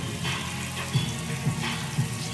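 Hennessy glaze boils in a pan with a steady bubbling sizzle and a few louder pops at regular intervals, close up with no talking.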